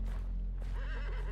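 A horse whinnies in the Weird West video game, a single rising and falling neigh with wavering pitch, close and clear over a steady low background hum.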